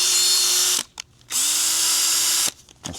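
A Ryobi 18V cordless drill running on a replacement 4Ah battery whines loudly and steadily at close range, spinning up twice with a short pause between runs and a quick stop at the end.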